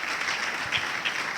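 A church congregation claps in welcome during a service, a brief, moderately distant burst of steady applause from a room of worshippers.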